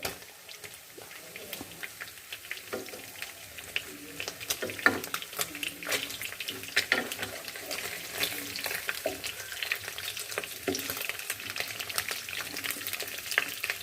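Fish pieces in mustard frying in a pan give a steady close sizzle and crackle, with scattered stirring clinks and pops throughout.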